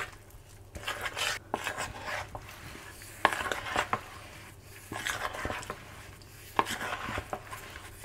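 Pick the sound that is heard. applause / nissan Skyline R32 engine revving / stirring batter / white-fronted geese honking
stirring batter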